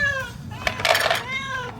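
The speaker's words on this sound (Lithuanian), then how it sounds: "Čia yra daugiau kniaukiančių." Several cats meow in quick succession, close by and fairly loud, with overlapping harmonic cries across most of the clip.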